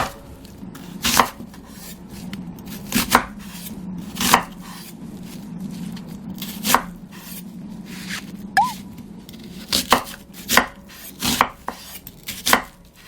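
Onion cut into cubes with a knife on a board, sharp chopping strikes arriving in irregular bursts across the span, close and clear over a quiet room hum, with no talk.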